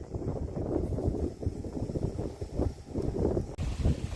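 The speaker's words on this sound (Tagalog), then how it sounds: "ang lakas ng hangin dito sa bukid ano" Steady outdoor wind roars and rumbles against the microphone in an onion field, fairly constant with brief gusts, no one speaking.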